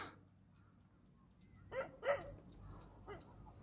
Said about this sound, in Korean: 개가 짖네.